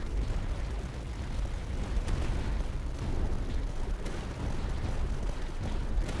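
Sanction cannons fire in a tower defense video game amid a dense, continuous rumble of battle, with occasional sharper booms standing out from the steady roar.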